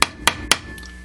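Three quick, sharp hammer blows flatten a hot metal ornament on an anvil, close by and evenly spaced, each followed by a short ringing decay.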